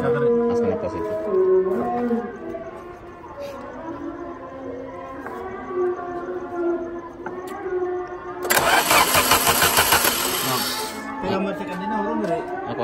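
A Peugeot 306 engine is cranked and started after its ECU was cleaned. A loud, harsh burst of starting noise comes about two-thirds of the way through, with people talking nearby before and after.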